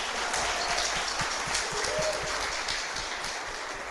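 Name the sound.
congregation applause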